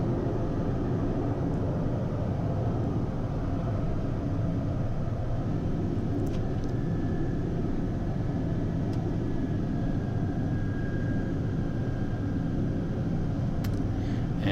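A Pilatus PC-12 turboprop taxiing after landing gives a steady, even engine drone and rumble heard from the cabin, constant throughout with faint higher tones drifting in now and then.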